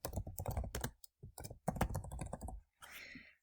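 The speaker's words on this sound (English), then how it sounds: "in here, I'm going to type Community Recycling Centres" Typing on a computer keyboard, a close, quick run of key clicks in short clusters with brief pauses between them.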